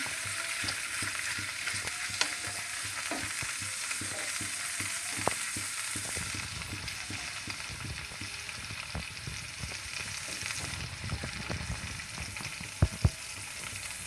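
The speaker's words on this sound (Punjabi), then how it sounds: "ਹੁਣ ਇਹਦੇ ਵਿੱਚ ਐਲੋਵੇਰਾ ਪਾ ਦਾਂਗੇ ਹੁਣ ਇਹਨੂੰ ਥੋੜੀ ਜਿਹਾ ਇਹਦੇ ਚ ਪਕਾ ਲਾਂਗੇ ਤੇਲ 'ਚ" Aloe vera pieces cooking in hot mustard oil for pickle, a steady quiet sizzle with irregular scraping and clicking of a stirring spoon against the pan, a couple of sharper knocks near the end, no voices.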